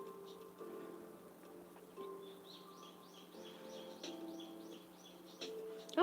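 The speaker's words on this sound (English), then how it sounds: "it's like a lot of birds are chirping" Several birds chirp and tweet in a continuous overlapping chorus, moderately distant, over a faint steady hum.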